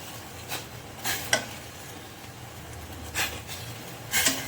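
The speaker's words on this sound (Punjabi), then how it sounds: "ਇਹਨੂੰ ਆਪਾਂ ਘੋਲ ਲੈਣਾ ਚੰਗੀ ਤਰ੍ਹਾਂ ਚਮਚੇ ਨਾਲ ਹਿਲਾਉਂਦੇ ਰਹਿਣਾ ਇਹਨੂੰ" A spoon stirs crushed toffee powder into a kulfi mixture in a pot, giving a handful of brief scraping sweeps at uneven intervals over a steady low background hiss.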